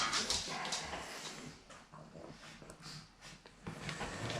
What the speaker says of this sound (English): I've got a dog here that's being silly.